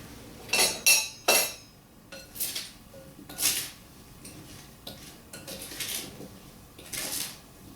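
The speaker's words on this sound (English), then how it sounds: "we're going to stir this and make sure that it's well combined and all of the berries are coated" Mixed berries stirred into dry ingredients in a bowl make scattered clinks and scrapes of a spoon against the bowl, irregular and close, with no speech.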